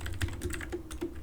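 Rapid typing on a computer keyboard during a netcat terminal session, with a steady run of close, light key clicks spread across the whole moment.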